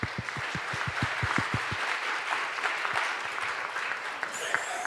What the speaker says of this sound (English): So can I invite the audience to give them a round of applause for their